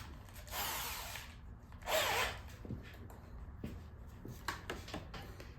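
Small power drill joining a row of small holes into an oval, likely on a 2009 Police Special motorcycle license plate fitting, heard as short faint high-pitched whirring bursts separated by quieter handling clicks and pauses.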